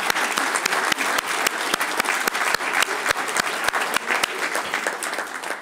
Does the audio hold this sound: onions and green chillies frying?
no